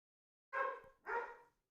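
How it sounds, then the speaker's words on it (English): An excited dog gives two quick, close barks in a row, separated by a short pause, with silence before and after. "No barking."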